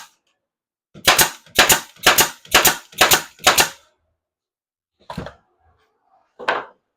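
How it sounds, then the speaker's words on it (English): A nail gun fires six rapid, loud shots into a 4-by-4-foot cedar raised sandbox, evenly spaced about half a second apart, followed after a pause by two more isolated, quieter impacts. "Probably shooting way too many nails,"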